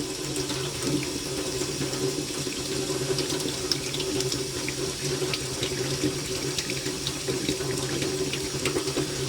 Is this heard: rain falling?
no